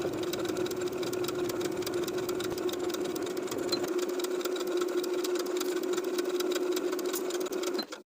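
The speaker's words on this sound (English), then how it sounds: "Now I'm ready to edge stitch in place all the way around, sewing with about 1/8 of an inch seam allowance from the upper inner fold all the way around." A sewing machine edge stitching a rolled hem on a colorblock top, running at a steady, fast buzzing hum close by, ending abruptly as the stitching stops.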